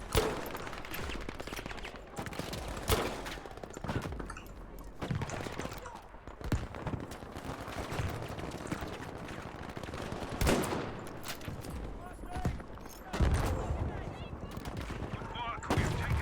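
MG42 machine gun fire in Battlefield V comes as dense, rapid bursts and scattered shots through a noisy battle, with players talking over the gunfire at times.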